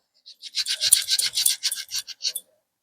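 An iron scrubber rasps over an old, burnt gas burner in a kitchen, giving a run of short, close scraping strokes in an uneven rhythm, with no talk.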